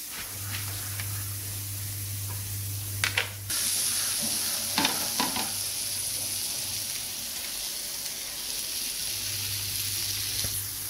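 Masala fries in oil in a pan in a home kitchen on a rainy day, a steady sizzle with a couple of scraping stirs and clinks and a low hum in the background.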